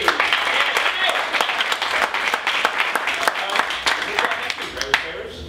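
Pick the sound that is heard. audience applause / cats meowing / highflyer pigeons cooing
audience applause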